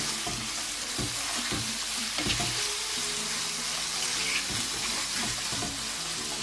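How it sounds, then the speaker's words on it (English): Chicken, pasta and vegetables are stirred in a frying pan, a steady sizzle broken by irregular scraping and clattering of the utensil against the pan, with no voices. "And then give it a good stir."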